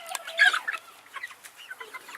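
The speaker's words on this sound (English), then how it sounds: "He's a pretty rooster." Chickens clucking in a coop, a Cochin rooster among them, with a loud burst of clucks near the start followed by quieter scattered clucks and soft calls, close by with no one speaking.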